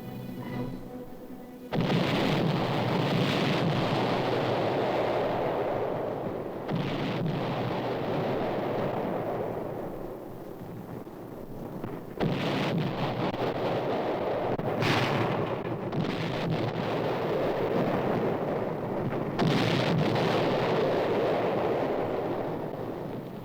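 Artillery and high explosive shells pound a Korean War hilltop in a sequence of heavy booming blasts, loud rolling detonations recurring every few seconds with long rumbling decays.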